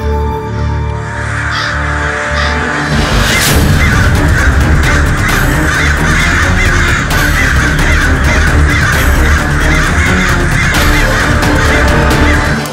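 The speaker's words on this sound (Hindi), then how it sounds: "ये कौवे एक ही साथ कहाँ जा रहे हैं?" A large flock of crows cawing together outdoors, loud and continuous, with dense overlapping calls throughout.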